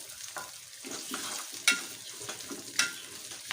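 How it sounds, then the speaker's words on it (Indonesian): Shallots and a little turmeric frying in a pan, a soft steady sizzle broken by occasional stirring scrapes and a few sharper clinks of the utensil, with no talk. "Tumis bumbu sampai benar-benar matang."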